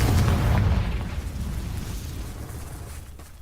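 A Confringo spell explosion in Hogwarts Legacy gives a single loud, deep boom at the start that rumbles out and slowly fades over several seconds, with no talking.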